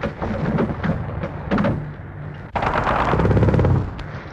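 Wartime machine-gun fire ambushing jeeps racing for a bridge: rapid bursts of gunfire crackling in short volleys, then a heavier sustained burst, close and sharp.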